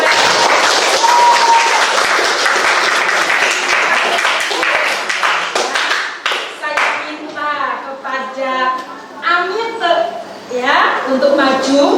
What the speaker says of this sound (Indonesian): Tepuk tangan untuk Darves.